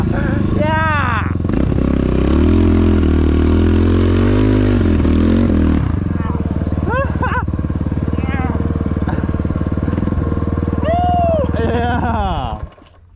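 Dirt bike engine revving hard during a ride, rising and falling in repeated surges with a steady motor drone throughout, loud and close, while people shout and talk over it before it cuts off at the end.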